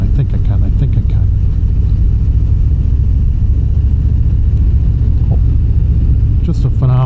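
A 2025 Harley-Davidson Fat Boy Gray Ghost rumbles loud and low in fifth gear below 2,000 RPM while riding, a constant deep engine drone with a brief voice near the end.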